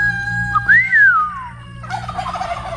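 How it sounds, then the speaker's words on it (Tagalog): A single clear, fluting whistle from a black-naped oriole rises and falls, loud and close, followed by fainter rustling and background noise. "Kulay dilaw, kilyawan ang tawag nila dito."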